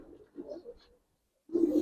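Old-generation Giribaz pigeons in a loft in Old Dhaka coo in low murmuring bursts, first a soft run of coos, then a pause of near silence, then a louder close coo.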